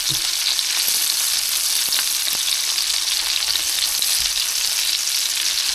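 Chicken pieces brown in a hot pan in a boat's galley, giving a loud, close, continuous sizzle with faint crackles throughout and no talking.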